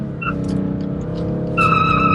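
Tires squeal on a BMW M car drifting at a club track day, a steady loud screech over a droning engine that grows sharper and louder near the end, with no talking.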